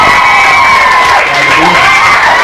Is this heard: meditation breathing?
no